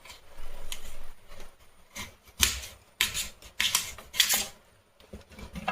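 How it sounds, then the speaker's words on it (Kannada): Knife chopping a peeled carrot into small thin pieces on a board, a run of sharp, irregular taps and clacks, close and fairly quiet. "ಇದನ್ನು ಚಿಕ್ಕ ಚಿಕ್ಕದಾಗಿ ಕಟ್ ಮಾಡ್ಕೊಳ್ಳೋಣ"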